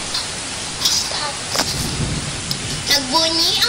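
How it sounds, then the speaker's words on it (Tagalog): Heavy rain pours steadily as a continuous broadband hiss, with faint higher tones briefly rising above the downpour. "masaganang ulan"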